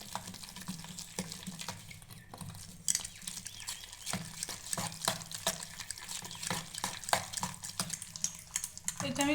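Soaked bread being mashed and kneaded by hand in a bowl, giving soft wet squelching and patting sounds in an irregular rhythm, close and fairly quiet with no talk.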